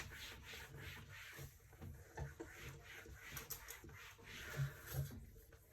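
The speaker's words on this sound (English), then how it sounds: "So if I rub all of this out," Writing is rubbed off a board during a maths lesson on proof by induction, a soft continuous scrubbing texture of uneven strokes, fairly quiet and close, with no talk over it.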